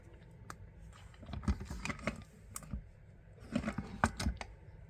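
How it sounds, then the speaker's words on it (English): Scissors snip out a stamped paper image, a close series of soft crisp cuts and paper rustles coming in small bursts, with short pauses between runs of snips. "I simply cut the image out, make sure it's completely cut out"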